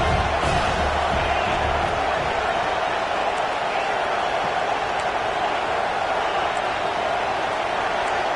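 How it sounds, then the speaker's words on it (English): Home crowd in an NCAA football video game roaring steadily at a loud, continuous level, a broad wash of cheering that fills the whole stretch without letup. "how nice is it to have the home crowd going absolutely bananas?"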